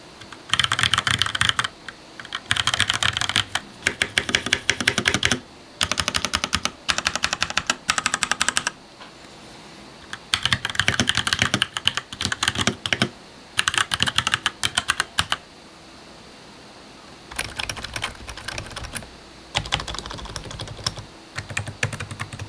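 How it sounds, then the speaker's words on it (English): Fingers type on a membrane computer keyboard with tactile feedback, producing rapid clattering bursts of keystrokes broken by short pauses, close and clear with no talk. "The keyboard is membrane with tactile feedback"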